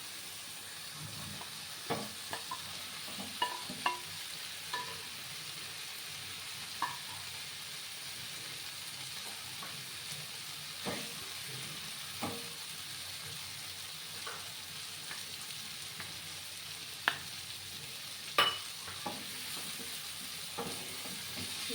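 Potatoes frying with green peas in a pan for a spicy vegetarian curry, a steady close sizzle throughout, with scattered light clicks and scrapes from stirring and no talking.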